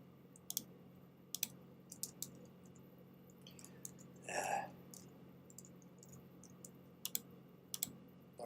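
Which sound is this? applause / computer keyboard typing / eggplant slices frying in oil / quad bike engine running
computer keyboard typing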